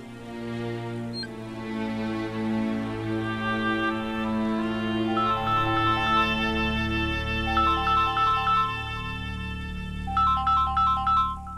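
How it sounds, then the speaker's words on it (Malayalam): A phone ringtone announcing an incoming call plays as a steady electronic melody for about twelve seconds, with no talking over it. "റോയ് വിളിക്കുന്നു."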